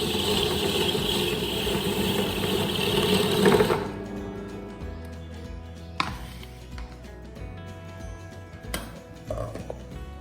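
A mixer grinder whirs loudly for a few seconds, then switches off, leaving a quiet room with a few faint knocks.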